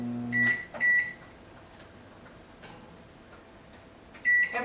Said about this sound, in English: put it in the microwave for 7 minutes